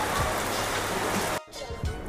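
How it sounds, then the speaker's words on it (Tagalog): Heavy rain pours down steadily in a broadband hiss, fairly close and loud, with a brief dip in the middle before the downpour resumes. "Lakas pa rin talaga ulan."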